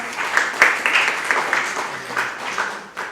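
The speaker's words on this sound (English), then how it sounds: "Can we give a big round of applause to all of them?" An audience applauds at a prize distribution ceremony for a declamation contest, a dense crackle of many hands clapping continuously for a few seconds, fairly loud and close.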